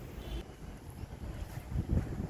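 Steady wind blows and buffets a microphone inside an empty flat's room, a continuous low rumbling that swells louder toward the end.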